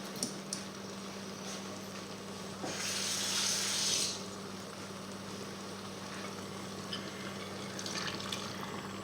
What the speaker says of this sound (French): Je vais juste rajouter un peu plus d'eau.